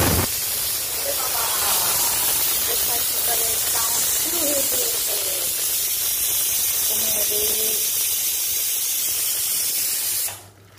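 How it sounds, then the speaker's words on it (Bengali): Onions sizzling in hot oil in a home kitchen, a steady loud hiss filling the whole stretch, with bits of talk and clatter over it before it cuts off at the end. "এই তো পেঁয়াজ একটু ভেজে নিব"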